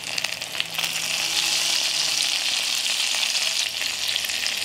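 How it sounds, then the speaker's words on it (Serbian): Salt, pepper, sweet ground paprika and chopped garlic frying in a pan, a dense, bright, steady sizzle heard up close with no talking. "nastaviti još par minuta da pržim sve ovo na nižoj temperaturi"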